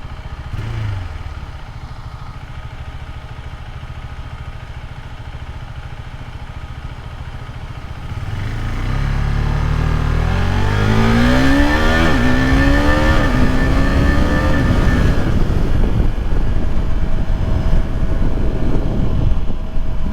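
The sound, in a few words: 2023 KTM RC390 motorcycle engine revving, quick shifter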